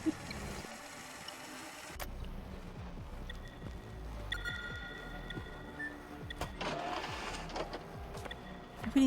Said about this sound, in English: I really need to force the printer to...